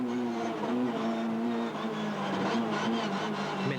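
A rally car on a special stage sweeps past with a steady, loud engine drone whose pitch shifts slightly as it goes by, and no voices.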